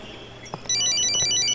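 A mobile phone ringtone chirps in a classroom, a repeating pattern of bright electronic tones that starts abruptly and plays steadily and close, with no one speaking over it.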